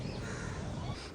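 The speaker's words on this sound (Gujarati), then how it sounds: "સવારમાં કાબર બોલે છે ને દર્શન કરી લ્યો સૂર્ય ભગવાનના" A common myna calling on a sunny morning: harsh, raspy squawks close by and fairly loud over a dense background hiss.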